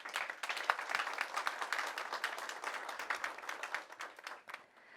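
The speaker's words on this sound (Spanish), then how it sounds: "a quienes nuevamente les pido un aplauso para ellas" An audience at a book presentation for the Biblioteca del Congreso de la Unión gives the two female authors a round of applause, a steady patter of many hands, soft and distant, trailing off at the end.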